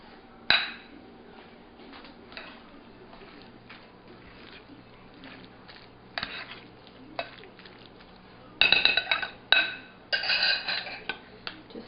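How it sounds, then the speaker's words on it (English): Spoon mixing guacamole ingredients with chopped onions in a bowl, scattered scraping clinks and taps against the dish, faint between bursts and louder clustered clinking near the end. "So I'm just going to mix."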